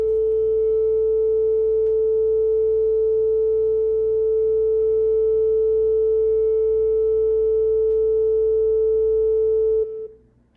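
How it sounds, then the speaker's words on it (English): A pure 440 Hz sine tone sounds as a steady, unwavering whistle for about ten seconds, alone and at constant volume, then stops abruptly. "So I'll start by playing a single frequency of exactly 440 Hertz for you."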